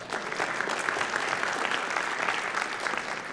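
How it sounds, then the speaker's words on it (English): A conference audience claps steadily and fairly loudly after a robotics technical paper talk, a continuous dense applause with no speech over it. "You guys can clap."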